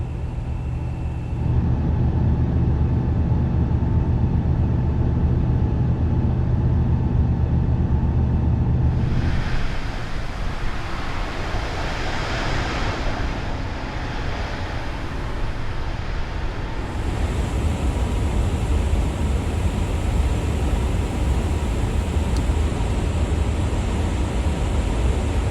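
Airliner engines at climb thrust in Microsoft Flight Simulator give a steady, broad roaring hum with a deep low rumble, continuous and fairly loud, shifting slightly in tone midway with no talking.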